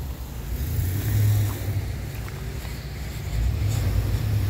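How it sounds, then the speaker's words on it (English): A UPS delivery truck rolls past on a road near Asheville, North Carolina, making a steady low rumble that swells, eases off, then builds again over light wind noise, with no talking. "UPS truck."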